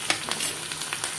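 Curry leaves, dried red chillies and turmeric sizzling in hot tempering oil, a short burst of bright crackling spatter with quick pops, close by and without speech.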